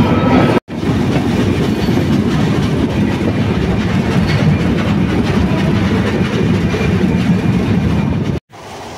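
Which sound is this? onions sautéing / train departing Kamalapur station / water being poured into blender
train departing Kamalapur station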